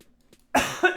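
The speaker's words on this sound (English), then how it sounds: "You don't want me coughing all over you." A single sharp, loud cough bursts out after a near-silent moment, followed by a short second catch of breath, close to the mic.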